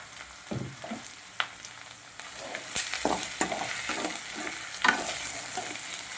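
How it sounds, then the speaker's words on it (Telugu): Ingredients for mint fried rice fry in a pan until reddish, giving a steady close sizzle broken by repeated scrapes and knocks of a stirring spoon, with no voices. "బాగా వేయించుకోవాలండి రెడ్గా."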